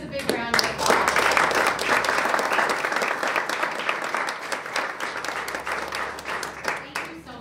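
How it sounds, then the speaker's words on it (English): A business club audience applauds a speaker named Chris with loud, close, continuous clapping that builds quickly and fades slightly toward the end, with a voice heard briefly at the start. "Let's give Chris a big round of applause."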